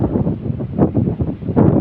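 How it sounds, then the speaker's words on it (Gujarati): Strong wind blows across an open farm field, buffeting the microphone with a steady low rumble that swells in gusts throughout. "આજે પવન બહુ છે, તમે જોઈ શકો છો"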